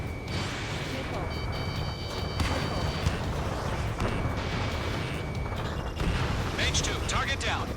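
Missile explosions destroying ground targets in the Ace Combat 7 flight game: deep rumbling booms and bursts over steady jet-engine roar, with radio chatter and a voice talking throughout.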